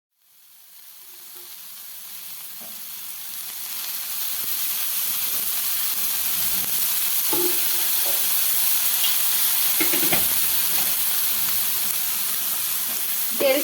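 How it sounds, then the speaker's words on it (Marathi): Tomatoes sizzling on a hot griddle (tawa) for shev bhaji, a loud, steady hissing sizzle that swells up over the first few seconds and holds, with scattered light clicks and taps of stirring. "आता मी तव्यावरती टमाटे टाकणार आहे"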